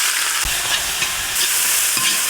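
Shallots frying in hot groundnut oil with cinnamon, cloves and cardamom, a loud, close, continuous sizzle broken by occasional stirring scrapes, with no talking.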